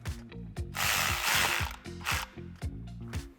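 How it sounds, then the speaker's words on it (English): A socket ratchet with a 7mm socket clicks in rapid, rhythmic bursts while tightening a hose clamp on a cold air intake coupler for a 5.7L HEMI Dodge Charger, with a short pause of rustling between strokes. "tighten that down with a 7mm socket"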